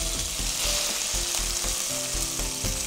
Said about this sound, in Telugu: జింజర్ గార్లిక్ పేస్ట్ దీంట్లో ఉన్న పచ్చిపోయేలాగా మనం దీన్ని ఫ్రై చేస్తున్నాం.